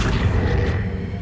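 A spell being cast in the Hogwarts Legacy video game: a loud, sustained magical rumbling whoosh with a deep low-end boom that fills the whole moment and fades slightly at the end, with no voices.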